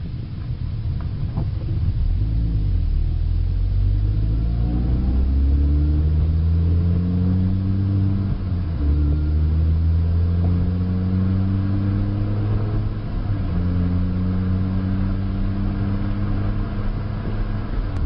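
A manual-transmission car's engine pulls away steadily, its pitch climbing through the revs, dropping briefly at a gear change and then rising again, loud and close, with constant road and cabin noise underneath.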